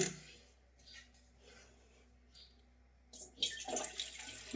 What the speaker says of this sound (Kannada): ಸ್ವಲ್ಪ ಒಂದು ಅಟೆದಷ್ಟು ನೀರು ಹಾಕಿದ್ದೀನಿ ನೋಡ್ರಿ